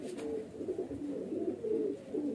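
Highflyer pigeons coo steadily throughout, soft throaty calls overlapping in a low continuous murmur, close by with no talking.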